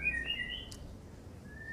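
A white-rumped shama chirps and whistles a few quick notes at a distance, faint against quiet background hiss.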